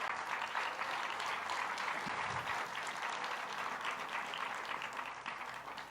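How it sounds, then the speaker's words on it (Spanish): A church congregation applauds during a Spanish-language sermon: a continuous, even wash of many hands clapping for about six seconds, moderately distant and fairly soft, tapering slightly at the close. "Démosle un aplauso al Señor"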